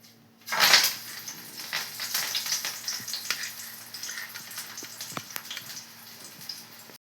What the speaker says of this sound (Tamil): இப்போ இதை போட்டு பொரித்து எடுத்துக்கிடலாம்